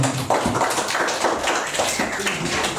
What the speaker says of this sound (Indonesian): berikan tepuk tangan untuk kelompok 5